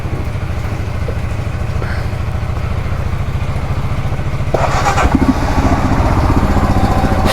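A motorcycle engine idles close by to warm up, a steady low chugging rumble that grows louder and rougher near the end with a brief clattering burst.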